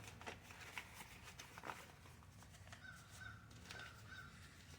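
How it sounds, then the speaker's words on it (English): Crows caw outside in a backyard, several faint, somewhat distant harsh calls repeating at irregular intervals, with light nearby rustling and handling noises in between. "You might hear some crows out here."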